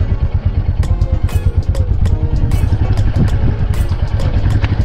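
A motorcycle rides up Marasilli hill near Ranchi, Jharkhand, its engine loud and close with a rough, clattering throb and gusts of wind buffeting throughout.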